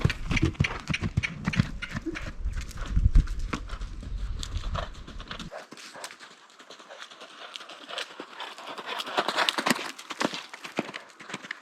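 Off-the-track Thoroughbred cantering on a circle: steady rhythmic hoofbeats with occasional snorting breaths, fairly close and moderately loud throughout, with a heavy low rumble in the first half that drops away midway.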